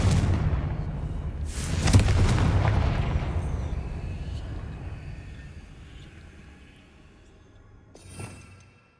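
A Confringo spell explosion in Hogwarts Legacy booms loudly near the start, its rumble decaying slowly over several seconds before a second, smaller blast near the end.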